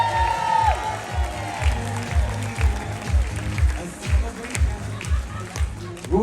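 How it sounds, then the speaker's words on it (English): An audience aboard the Carnival Vista cruise ship claps and cheers for the hardworking crew, a lively burst of applause continuing steadily with a host's voice over it. "Can we give them a big round of applause, please?"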